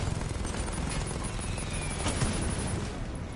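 Batmobile cannons firing at incoming missiles in Batman: Arkham Knight, a dense, continuous roar of rapid gunfire and blasts that stays loud and steady throughout.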